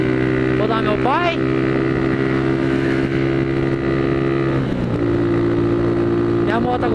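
A small motorcycle engine with its original transmission drones steadily under load while riding uphill, its pitch dropping as it shifts gear and then holding, with brief voice-like squeals over it.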